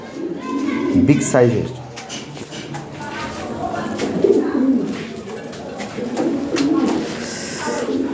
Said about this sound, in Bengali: এর এক পেয়ার কবুতর দেখেন, এগুলো আপডেট 2020 সিং ব্লাডের কবুতর।